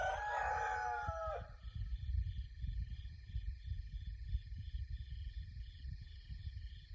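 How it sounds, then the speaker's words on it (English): Rooster crowing on a homestead at dawn: one loud crow at the start, then a quieter, steady outdoor background with faint bird calls. "But the roosters are up, ready to start their day."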